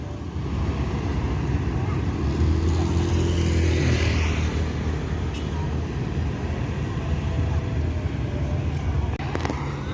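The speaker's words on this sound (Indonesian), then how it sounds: "Ini bus terbaru dari PT MPM." A new bus built by PT MPM drives past on a road, its engine a low rumbling drone with some rising revs, fairly close and steady throughout, with other traffic noise around.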